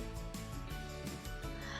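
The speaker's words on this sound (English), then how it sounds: "Would you like to be friends with a frog?" A cartoon frog croaks in a steady run of rhythmic, close croaks over a continuous musical bed, with no talking.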